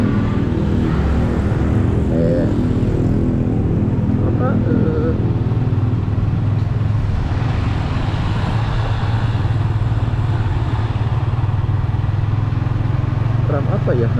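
A motorcycle engine is revved with the throttle, caught on a GoPro Hero 8 camera as a loud, steady droning rumble lasting the whole stretch, with a rough roar that swells slightly midway.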